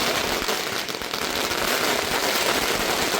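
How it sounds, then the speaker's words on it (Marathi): A dense, continuous crackle of firecrackers going off in rapid, overlapping bursts, loud and close throughout, at a celebration by party workers. "कार्यकर्त्यांनी फटाक्यांची आतिषबाजी करीत जल्लोष केला।"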